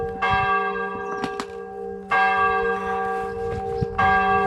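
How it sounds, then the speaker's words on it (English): A church bell chimes at noon, one bell at a time, in a remote farming area: three loud, separate strikes about two seconds apart, each ringing on with a long, humming tone. "It's been chiming now for 5 minutes. Not exactly a tune, it seems to be one bell at a time"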